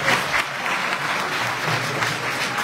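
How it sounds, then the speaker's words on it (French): Audience applause at a French debate event, a steady dense wash of many hands clapping close by for the full stretch, with no voices over it. "Applaudissez pour moi."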